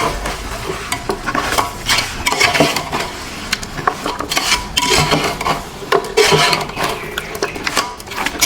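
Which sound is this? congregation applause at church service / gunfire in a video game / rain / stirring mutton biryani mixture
stirring mutton biryani mixture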